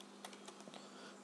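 Quiet typing on a computer keyboard, a handful of light key clicks in quick irregular succession over a soft steady background hum.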